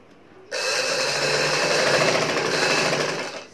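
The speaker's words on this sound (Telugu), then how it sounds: "ఇప్పుడు గట్టి కుట్టు వేసుకోండి" A sewing machine stitching piping onto a kurti starts abruptly and runs in a steady, loud, close whirring drone for about three seconds, then winds down, with no talk.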